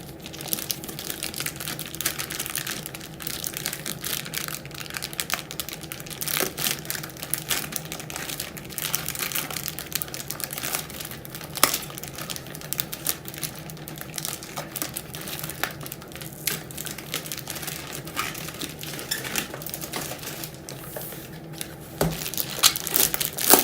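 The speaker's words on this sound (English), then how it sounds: "Get this bubble wrap out of the way." Bubble wrap being crumpled and pulled away while unboxing a collector's edition game, continuous close crinkling and crackling with scattered sharper pops throughout.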